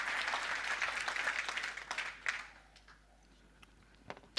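An audience at a software demo talk applauds, thick clapping that thins out after a couple of seconds into scattered, isolated claps fading toward the end.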